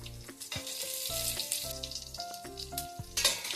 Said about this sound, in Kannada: ಸ್ವಲ್ಪ ಫ್ರೈ ಮಾಡ್ಕೊತೀನಿ.